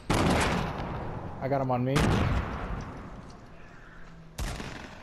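Gunshots ring out in a Fortnite Battle Royale duos match as several loud, sharp cracks, one early and another near the end, while players talk over the noise.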